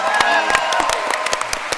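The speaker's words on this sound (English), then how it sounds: "We do need to give Potato a huge round of applause." A PAX Australia gaming-event audience claps for an eliminated Omegathon contestant, a short, fast burst of scattered clapping mixed with crowd noise and a voice talking over it.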